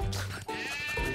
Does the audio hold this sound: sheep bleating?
yes